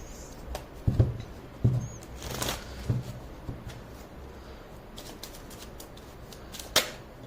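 Tarot cards shuffled by hand in a quiet room, a few soft riffling bursts and faint rustles spread across the stretch, with a sharper snap near the end.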